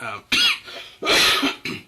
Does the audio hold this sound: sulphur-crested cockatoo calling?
no